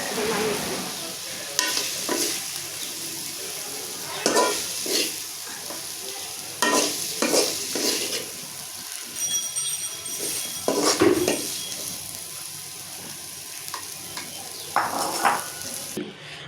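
Cabbage, potato and dheki greens stir-fried over a wood-fired stove, with a soft continuous sizzle broken by repeated scraping stirs of a utensil against the pan at irregular intervals, close and fairly quiet.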